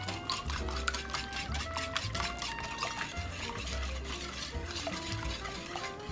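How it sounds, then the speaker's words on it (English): Eggs being stirred into cake batter in a mixing bowl, a steady run of wet scraping and clinking strokes close by, repeating rapidly with no talk over them. "Mix it up again."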